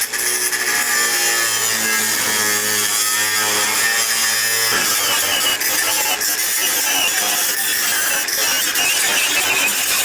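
A power saw cuts steadily through metal on a 1968 Volkswagen, close up, with a grinding, high-pitched rasp. The tone changes partway through as the cut continues.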